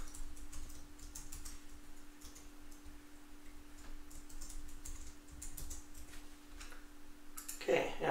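Someone types a password on a computer keyboard, giving a steady run of soft, quick key clicks over a faint electrical hum, ending in a louder burst.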